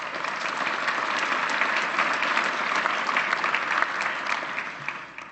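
A conference audience at an Ontario finance minister's address breaks into steady, dense applause that holds at an even level throughout and tapers slightly at the very end, with no talking over it.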